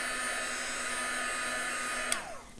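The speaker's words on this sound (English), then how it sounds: "And then just hit that with a little heat gun" A small heat gun blows hot air with a steady whirring hiss and high whine, then switches off and spins down near the end.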